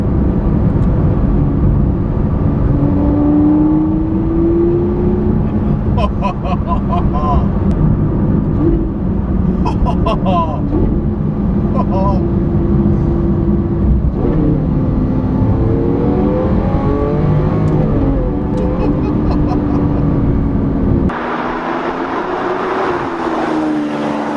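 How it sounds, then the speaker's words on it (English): A Lamborghini Aventador in sport mode with its exhaust, a continuous loud engine drone that rises and falls as revs change, with intermittent higher crackles, heard from inside the car and partly masked by cabin noise. "Sport mode, you get the exhaust hopefully now."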